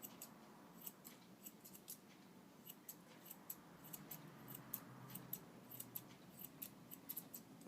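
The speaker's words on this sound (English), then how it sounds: "we are going to then scissor up to that point with our straight scissors" Straight grooming scissors snip through a Bichon's coat in quick, repeated crisp cuts, steady and close, with no talking.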